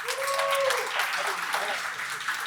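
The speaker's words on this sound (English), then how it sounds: "So let's give a round of applause to Osama Sablani" A crowd of supporters and community leaders at a celebration applauds for Osama Sablani, with a continuous, fairly loud clatter of clapping that starts under a brief voice and carries on steadily.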